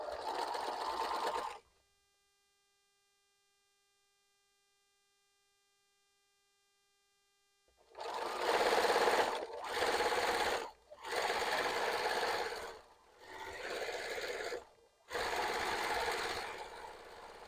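A sewing machine stitches a T-shirt quilt in five bursts of a few seconds each, separated by short pauses, loud and close. A brief stretch of machine running opens the passage, then several seconds of near silence with a faint hum.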